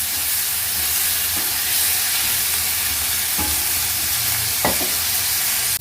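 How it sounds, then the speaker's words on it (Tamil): Pirandai (adamant creeper) sautéing in a pan for kara kuzhambu, a steady broadband sizzle throughout with a few sharp utensil scrapes and taps as it is stirred, close and fairly loud, no voices. "நல்லா வதக்கி விடுங்க"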